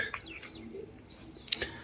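Scattered bird chirps and calls over a soft background, with one sharp high note near the end.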